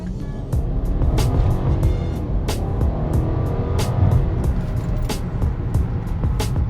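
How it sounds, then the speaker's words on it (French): A BMW 550 E60's big petrol V8 pulls hard under acceleration, a loud continuous engine roar heard from inside the car with steady road rumble and no voices. "Un beau gros V8 essence qui marche du feu de Dieu."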